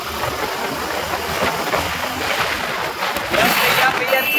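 A Jawa motorcycle engine on a ride, a steady loud drone mixed with heavy wind rush, rising slightly toward the end as the bike picks up speed.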